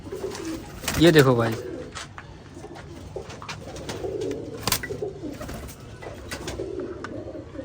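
Pigeons coo nearby in soft, throaty bursts, with one louder call early on, while someone talks over them.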